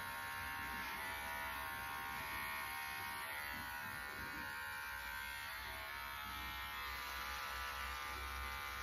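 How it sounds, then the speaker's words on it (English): Electric shaver trimming hair on the back of the neck, a steady close buzzing hum that runs continuously without a break and with no talking over it. "You can launch your shaver."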